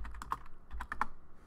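Computer keyboard typing while configuring a Cisco Catalyst 2960 switch, a short burst of quick clicking keystrokes, close and fairly quiet with no talk.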